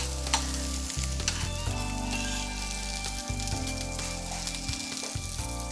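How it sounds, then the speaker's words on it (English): Dense, continuous crackling sizzle of dumplings frying in a hot pan, close and steady, with occasional soft clinks and shifts. "That's what you want to hear, that light little sizzle as soon as they go onto the pan"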